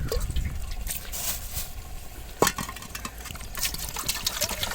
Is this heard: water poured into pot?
yes